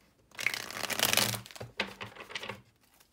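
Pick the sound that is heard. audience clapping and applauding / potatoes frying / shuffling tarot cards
shuffling tarot cards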